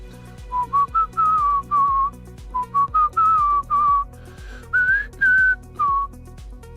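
A man whistles a bouncy tune alone, clear and close, in short repeated phrases with brief gaps, over a faint steady background beat.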